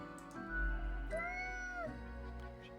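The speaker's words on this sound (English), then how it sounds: "The cat repeats the sequence of contented meows." A cat in the video game Death and Taxes gives a couple of soft, contented meows close up, quiet and brief with no talking.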